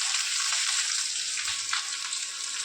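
Mung dal fries in hot spiced oil with chillies, producing a steady, close sizzling hiss with light crackling, with no voice over it.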